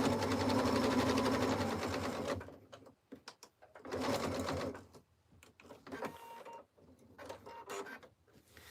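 A sewing machine stitches a soup bowl cozy, running in fast whirring bursts that stop and start with brief pauses, close and loud, no talking.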